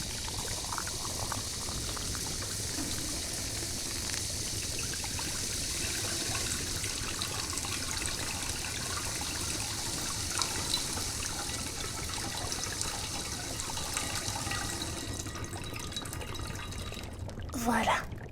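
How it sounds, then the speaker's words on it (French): Hot water pours steadily into a cauldron, a continuous splashing rush that holds fairly loud and up close, then ends in a few clanks near the finish. "on va commencer par remplir ce chaudron d'eau chaude"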